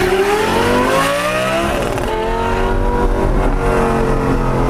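A Ferrari 458 Spider engine revs hard and loud through rising and falling pitch sweeps across gear shifts, with crackles between shifts and no talking over it.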